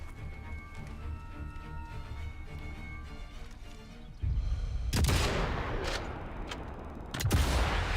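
Submachine gun fire in the Sniper Elite 5 video game: after a stretch of game ambience, a loud burst of gunshots kicks in and continues in sharp clustered volleys, close and dominant.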